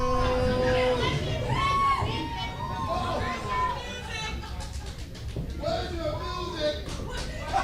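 Wrestling event crowd shouting and chanting loudly throughout, a dense roar of many voices with rhythmic chant swells.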